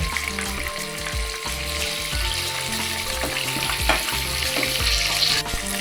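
Chicken pieces frying in a pan for Bengali-style chicken chaap: a strong, steady crackling sizzle throughout, with scattered stirring scrapes and a low background hum, no speech.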